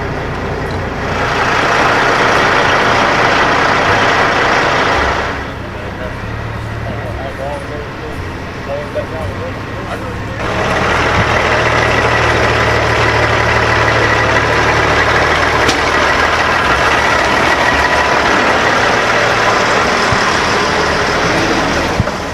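Diesel engines of newly bought logging trucks idle and rumble nearby, loud and steady, dipping briefly midway before resuming, with people talking over the engine noise.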